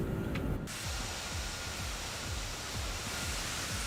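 A four-engine Toliss A340-600 airliner in a flight simulator game gives off a loud, steady broadband roar like rushing air, after a brief whine at the start.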